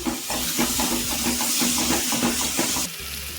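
Onion, tomato, ginger and garlic sautéing for a vegetable kurma: a loud, constant sizzling hiss with a quick pulsing rhythm underneath, near and unbroken.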